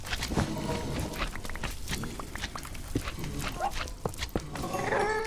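Wolves in Minecraft growl and bark in a scuffle, short yelps and snarls popping over constant clatter of combat and block-breaking, fairly close and busy throughout.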